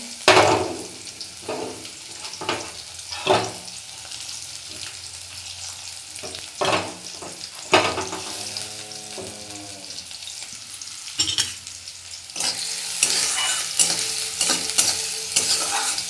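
Onions and a bay leaf fry in a pan, a close, continuous sizzle punctuated by irregular clatters and scrapes of stirring, with the hissing growing louder and brighter near the end, and no voices.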